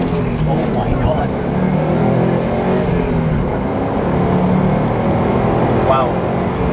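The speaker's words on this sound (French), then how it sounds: "accélère un petit peu, pas trop" A 2018 Subaru WRX STI accelerates on the road, its engine a loud, continuous rumble heard from inside the car, with people talking over it throughout.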